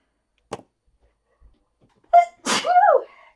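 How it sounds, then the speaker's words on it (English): A single loud, sharp sneeze bursts out close by after a couple of soft breaths and small sounds. "Oh, I'm gonna sneeze,"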